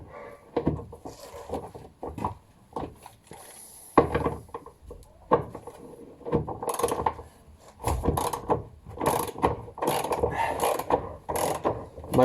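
A ratchet works loose the fuel tank strap bolts on a Mk2 Volkswagen Caddy, close-up bursts of rapid clicking in uneven runs separated by short pauses and small knocks of the tool, with no talking.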